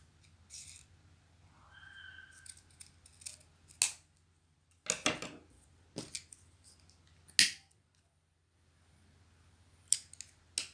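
Scissors snip through grosgrain ribbon in a series of sharp, close cuts spread across the clip, with quiet pauses between the crisp clicks.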